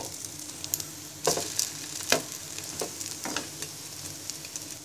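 Egg-and-milk-soaked bread toast frying in a pan over medium heat, a steady sizzle with several sharp crackling bursts and spatula scrapes, close and alone with no talking.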